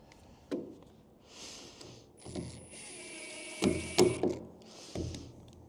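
Plugs for a water tank gauge are screwed in by hand, producing intermittent close clicks, ratcheting scrapes and small thumps, with some quiet stretches between the turns.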